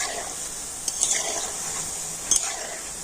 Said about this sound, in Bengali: খুন্তি দেখতে এইভাবে নাড়ি চাড়িয়ে দিতে হবে